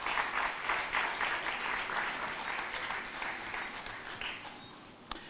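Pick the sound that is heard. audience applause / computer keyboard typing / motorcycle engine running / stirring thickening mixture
audience applause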